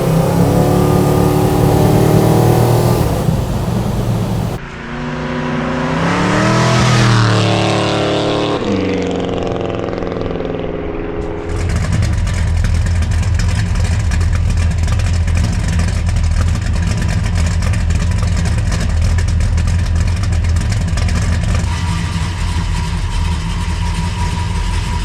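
A 1967 Plymouth GTX with a 440 engine runs loudly up close, revving in a rising and falling surge before settling into a steady, heavy rumble as it drives on, with no voices.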